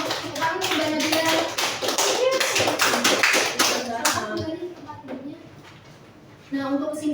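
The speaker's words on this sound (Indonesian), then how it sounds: "Tepuk tangan untuk Mbak Nabila." A class claps in a burst of quick, dense applause for several seconds during a tie-dye lesson, then it fades out and a voice starts talking.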